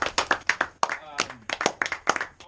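At a live show, a few nearby people clap in quick, separate bursts while voices cheer and talk over them.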